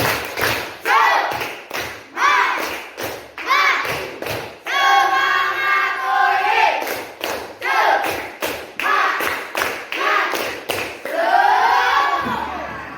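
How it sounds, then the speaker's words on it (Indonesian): Schoolchildren in an Indonesian classroom perform a rhythmic spirit clap chant, sharp group claps in sharp bursts alternating with chanted and sung voices, loud and near. "Tepuk semangat."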